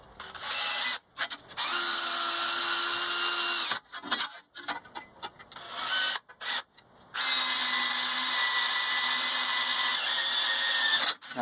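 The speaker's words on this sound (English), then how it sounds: "Go ahead and drill them out with a smaller pilot bit." A power drill with a small pilot bit boring holes into a steel frame plate on a Toyota Tacoma during a solid axle swap: long steady whining runs broken by short stop-start bursts, loud and close, with no talking.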